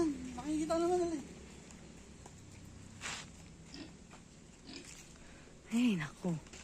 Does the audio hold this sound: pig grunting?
yes